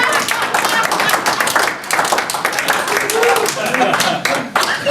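A comedy competition audience applauds, with dense, steady clapping filling the room at a fairly loud level and no clear talk on top.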